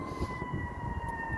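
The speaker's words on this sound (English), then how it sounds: "Sorry about the sirens. We are downtown Nashville," A steady, high-pitched emergency siren wails in the distance over low city traffic rumble in downtown Nashville.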